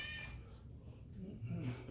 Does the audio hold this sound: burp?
no